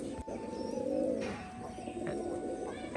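Pigeons cooing nearby, soft low throaty coos that run steadily over a faint hum of background noise.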